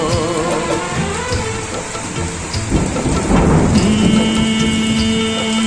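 Heavy monsoon-season rain pours steadily while thunder rumbles and cracks loudly, with a song playing underneath the storm the whole time.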